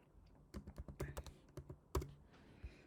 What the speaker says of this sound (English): I'm going to type in bar